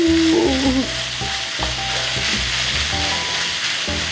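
Diced jalapenos sizzling loudly in a hot frying pan as they are stirred, a steady close crackle and hiss with occasional scraping clinks of the utensil, no voices.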